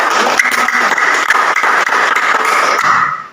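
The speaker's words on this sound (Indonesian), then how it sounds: "Tepuk tangan." Classroom of schoolchildren clapping at a teacher's prompt, loud, close, rapid applause from a small group that runs briefly and then cuts off.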